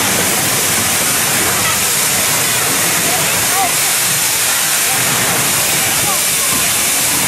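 Pneumatic combat robot losing pressure, a loud continuous broadband hiss lasting throughout without pause.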